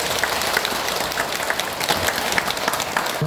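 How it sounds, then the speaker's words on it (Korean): A Buddhist temple audience at a special first-day-of-the-lunar-month dharma service applauds for the monk, a steady, full burst of many hands clapping together throughout, close and fairly loud. "스님한테 박수 한번"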